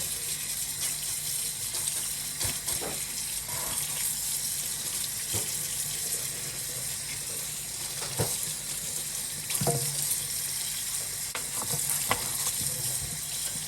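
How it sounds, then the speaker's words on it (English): Beef ribs rinsed under a running kitchen tap, a steady hiss of water with occasional splashes and thuds as the meat is handled in the sink, close and continuous throughout. "So I'll go ahead and wash them right quick."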